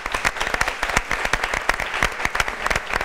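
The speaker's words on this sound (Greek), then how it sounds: "ένα μεγάλο χειροκρότημα" A television studio audience on a Greek talk show claps briskly; individual hand claps stay distinct in a lively, close, moderately sized round of applause.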